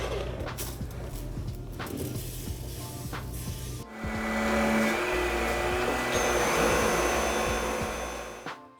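Bissell PowerClean FurGuard and Dyson V8 vacuums on medium power suck up rice and pasta, a steady loud motor whir that jumps to a stronger, brighter roar midway, with rattling debris and no talk.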